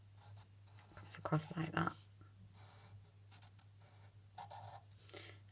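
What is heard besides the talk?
pen drawing lines on a paper treasure map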